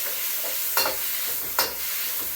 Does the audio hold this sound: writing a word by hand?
no